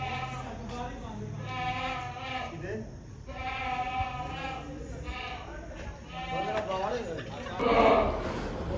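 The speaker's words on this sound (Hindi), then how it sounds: "बाकी 2 बकरे जो हैं वो बोल रहे हैं" Goats bleating repeatedly during Eid al-Adha after another goat was slaughtered, loud wavering calls in a steady series close by, with a person talking over them.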